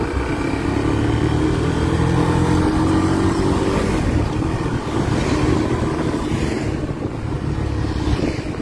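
Kawasaki Barako 3 motorcycle engine misfiring while riding at around 40 kilometers per hour in Pagbilao, Quezon, a loud, steady drone with rough uneven texture and wind buffeting the microphone, no voices.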